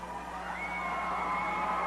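A live wrestling crowd at a 1993 UWF Rampage TV taping cheers, whoops and yells steadily as a fan-favorite wrestler enters, a dense, sustained roar filling the arena with no individual voices standing out.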